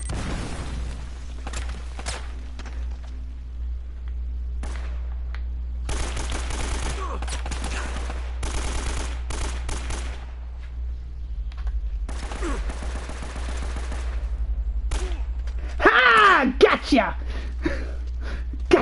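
Gunfire in the video game Uncharted, with bursts of rapid shots and scattered single reports, a boom near the end, over a steady low game hum.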